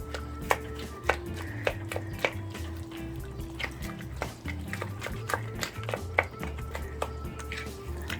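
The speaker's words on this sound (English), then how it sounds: "I just beat a scallion. I like to use the bottle, but I have this mortar and pestle, so I just use it." A scallion is pounded in a mortar and pestle while Jamaican curry goat is cooking, giving a steady series of dull thumps about every half second, close and moderate in volume, over a low background hum.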